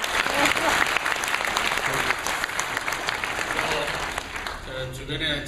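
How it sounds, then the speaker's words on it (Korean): A church congregation applauds together, a steady, dense clapping that holds strong for several seconds and then thins slightly toward the end, close and loud. "박수 할까요?"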